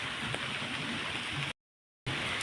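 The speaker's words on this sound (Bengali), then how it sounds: "এখন আমি বৃষ্টির মজা নিচ্ছি।" Rain falls steadily in a dense, even wash of hiss at moderate level, interrupted by a brief moment of complete silence before the same rainfall resumes, with no talking.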